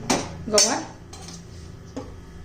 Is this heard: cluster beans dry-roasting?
yes